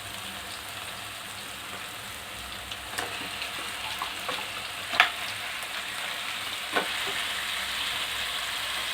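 Pieces of country chicken dropped into a masala of salt and turmeric frying in a pan, giving a steady close sizzle with a few scattered clatters and pops and no talk.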